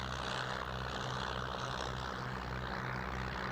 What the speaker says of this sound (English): This is a predecessor of the Heron, the de Havilland Dragon.